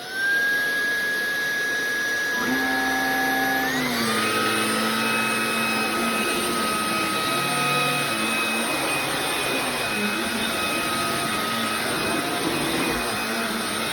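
Halo Capsule X carbon-fibre cordless vacuum cleaner running on its most powerful setting, a loud steady high-pitched whine that shifts upward in pitch partway through, then holds constant without speech.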